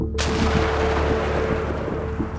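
A single loud mortar shot booms out sharply, then a long, rumbling echo rolls on for a couple of seconds.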